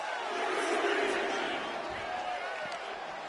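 A wrestling arena crowd cheers in a broad, sustained roar that swells early and then holds steady, with a voice speaking over the noise.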